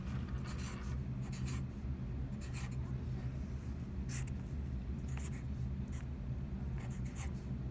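Marker squeaking and scratching on a surface while working a four-digit rounding problem on a number line, short strokes in irregular bursts over a constant low background hum.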